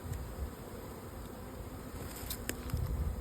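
Honeybees swarming around an open, strong hive during an early April inspection, a dense continuous buzzing hum close by with a few individual bees droning past, no voices.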